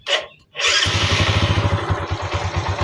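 A warm motorcycle engine that has just had its carburetor changed starts up after a brief burst of noise, then idles unevenly with a choppy, faltering beat. It is heard up close with no talking.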